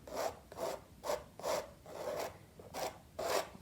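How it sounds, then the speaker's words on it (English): A palette knife scrapes across wet oil or acrylic paint on a canvas in about eight rhythmic rasping strokes, each a short scratchy drag, close and clear with no talk. "You can come in and do some scraping"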